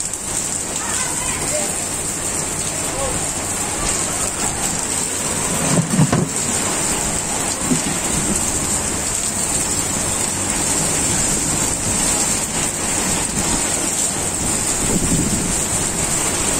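Steady rain hisses throughout with a couple of low thunder rumbles rolling in, while people talk underneath.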